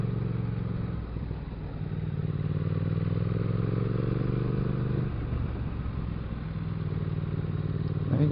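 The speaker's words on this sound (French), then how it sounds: "Il y a des motos qui arrivent là." Motorcycle engines drone and rise in pitch as bikes approach on a mountain road near the Bonette, heard from a Triumph Speed Twin 1200 rider's position, with steady engine rumble throughout.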